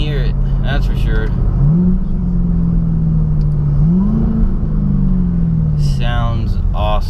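A Chevrolet Camaro ZL1 with a Roto-Fab intake rumbles loudly close by, its exhaust note swelling and easing over a rising supercharger whine, with brief voices at the start and end.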